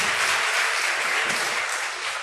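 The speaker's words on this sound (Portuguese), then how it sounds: "poderosa salva de palmas." A church congregation gives a powerful round of applause during a sermon, a dense and steady wash of many hands clapping at an even level that fades slightly toward the end, with no voices over it.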